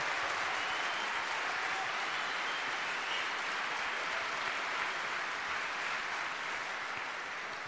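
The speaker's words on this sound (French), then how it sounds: "On peut l'applaudir très fort, on peut l'acclamer," A crowd at a large political rally applauds the mayor loudly and steadily, with dense, sustained clapping that fills the whole stretch without a break.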